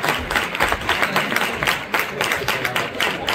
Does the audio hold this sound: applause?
yes